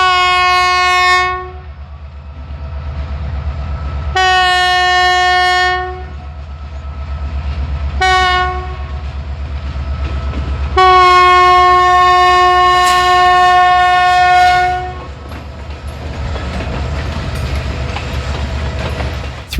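A CPKC freight train led by an SD75I locomotive passes with its horn sounding in several long blasts and short breaks, loud and close over a steady rumble of rolling wagons that continues after the horn stops.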